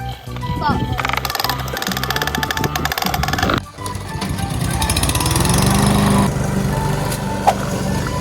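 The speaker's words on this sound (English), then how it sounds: "What is it? It's a lawn mower." A children's toy lawn mower whirs and rattles continuously, a buzzy mechanical drone that shifts in pitch midway, while someone talks over it.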